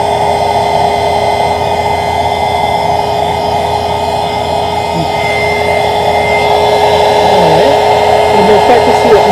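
A heat tool runs with a loud, steady whirring blast of air as it warms and melts crayon wax on a dollar-store coloring book page, a continuous drone throughout.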